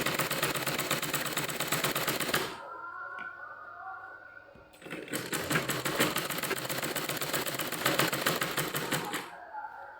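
A sewing machine runs in two long bursts of rapid, even stitching as two fabric panels for a petticoat are joined, with a brief quiet pause between them and faint handling sounds.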